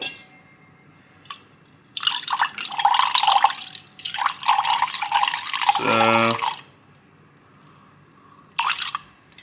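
Water from a tap trickles and drips into a glass or kettle while tea is being prepared, a few light drips giving way to a steady pour that rises in pitch as it fills, then stops.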